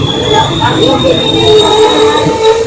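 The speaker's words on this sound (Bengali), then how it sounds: "ঢুকে গেল আমাদের গাড়ি আজিমগঞ্জ জংশনে।" Loud, close rumble of a train pulling into Azimganj Junction station in Murshidabad, India, with a sustained high metallic whine of wheels over the steady roar.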